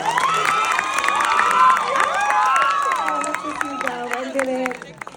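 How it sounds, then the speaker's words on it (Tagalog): An audience at a film screening, the Cinemalaya action movie Child Number 82, breaks into loud cheering, shouts and applause, a dense crowd roar with high excited voices that lasts throughout and fades near the end. "Isang palakpak naman dyan kung nagandahan kayo."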